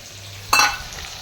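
Ground spices (coriander, cumin, turmeric and two kinds of chili powder) hitting hot oil in a pan at an outdoor fair, giving a brief, loud hissing sizzle that flares up and quickly settles into a faint background.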